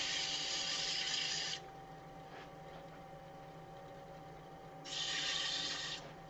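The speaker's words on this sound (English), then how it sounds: "I really need to sand this up on both sides," Sanding a wooden long-stem goblet spinning on a lathe: a faint steady motor hum with two bursts of hissing abrasive rubbing, one at the start and one near the end.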